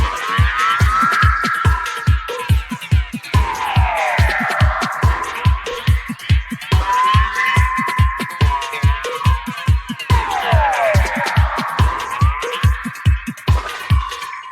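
A dub mix in Ableton with a reverb effect: a steady, punchy beat of thumping kicks and snappy hits, with swirling, sweeping reverberant tails washing over each bar, music alone without talk.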